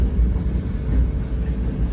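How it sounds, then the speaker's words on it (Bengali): A Vande Bharat train pulls into Jammu Tawi station, giving a steady, continuous low rumble and hum from inside the carriage, with no voices. "এখন আমাদের ট্রেন ঢুকছে জম্মু তাবি।"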